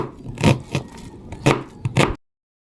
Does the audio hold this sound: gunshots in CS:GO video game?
no